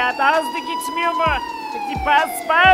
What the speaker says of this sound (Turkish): Bu ambulans sesi ne ya?